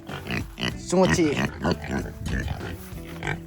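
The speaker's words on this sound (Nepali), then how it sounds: "हाम्रो सुँगुर हेर्नुहुन्छ, सुँगुर" A farm pig in a village grunts and oinks in short, close bursts, mixed with a person talking over it.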